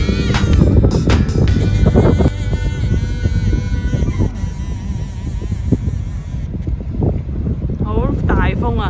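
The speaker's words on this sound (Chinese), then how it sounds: "好大风啊！" Strong wind buffets the microphone at a rocky seaside on Kagoshima's Ibusuki coast, a loud continuous roar with gusts, while people talk close by.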